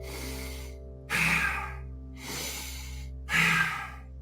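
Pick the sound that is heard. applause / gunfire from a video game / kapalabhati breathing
kapalabhati breathing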